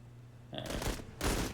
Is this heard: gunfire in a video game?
yes